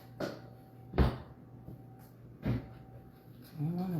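A kitchen drawer jammed by stuck pans is forced open, giving several separate knocks and scraping bumps spaced about a second apart, close by, with a low voice murmuring at the end.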